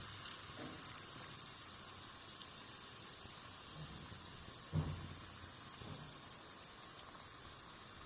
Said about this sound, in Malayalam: ഉഴുന്ന് പരിപ്പൊന്ന് പൊട്ടട്ടെ.